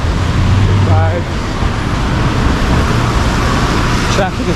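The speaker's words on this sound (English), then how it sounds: "Traffic is horrible in Sao Paulo" Dense city traffic fills a wet, overcast street in Sao Paulo, a loud continuous roar of engines and tyres with vehicles passing close by, while a voice speaks over the din.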